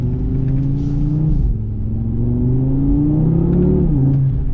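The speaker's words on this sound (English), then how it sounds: "Love the mid-range noise of a 5-cylinder." Audi TT RS Roadster's five-cylinder engine accelerating hard, a loud close growl rising in pitch through one gear, briefly dipping at a shift, then climbing again.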